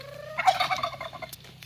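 A turkey gobbles once, a brief rapid warbling burst, fairly close, over a low steady background hum.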